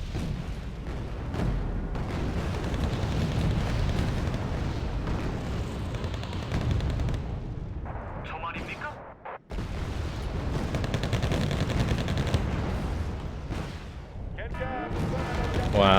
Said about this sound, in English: that artillery is nasty